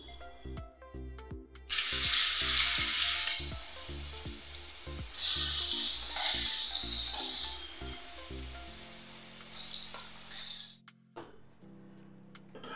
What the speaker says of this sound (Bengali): পনিরটা ভেজে নেব